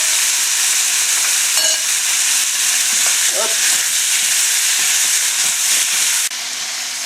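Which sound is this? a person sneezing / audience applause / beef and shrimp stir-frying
beef and shrimp stir-frying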